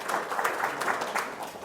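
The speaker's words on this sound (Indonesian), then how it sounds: "Tepuk tangan dong." Audience applause at a company testimonial gathering, a steady wash of many hands clapping with slight surges, fairly close and filling the whole moment without talk.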